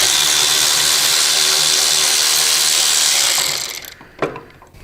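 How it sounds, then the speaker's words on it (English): A ratchet working loose a bolt at the passenger footrest mount of a Harley-Davidson Street Bob motorcycle, a loud continuous close clicking that stops after about three and a half seconds, followed by a faint clunk. "So we're going to remove that bolt."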